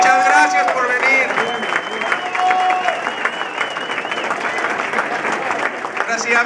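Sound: applause for the children

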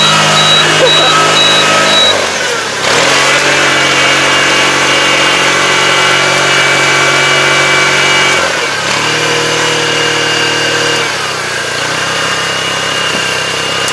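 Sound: rice transplanter engine running

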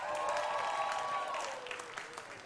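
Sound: audience cheering and applauding at stand-up comedy show

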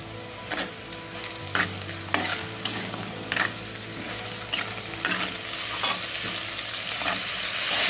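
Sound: garlic frying in a pan

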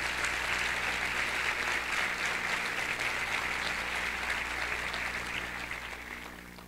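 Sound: audience applause welcoming a speaker

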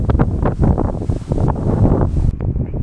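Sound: strong wind

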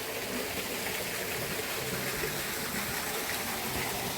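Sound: mountain stream flowing past a hut in Poliana village

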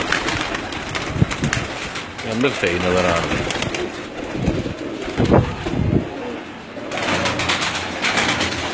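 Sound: flyer pigeons cooing on a rooftop

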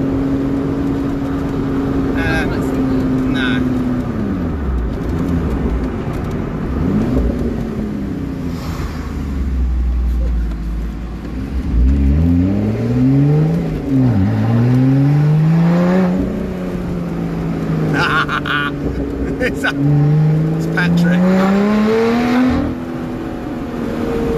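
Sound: BMW i8 car driving

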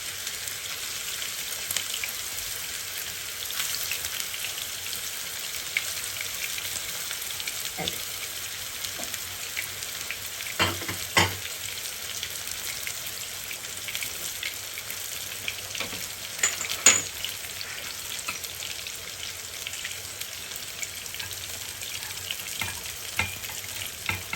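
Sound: meatballs frying in hot oil

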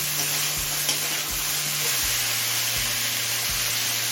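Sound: mixed vegetables frying on medium flame

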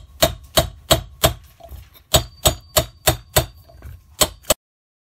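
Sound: hammering bearing into place

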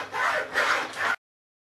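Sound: hacksaw cutting a longsword blade

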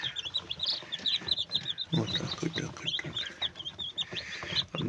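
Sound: newly hatched chicks chirping

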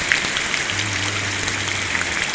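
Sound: heavy rain falling

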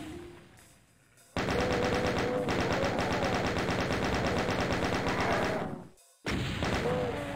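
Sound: chaingunner enemies firing machine guns in a video game

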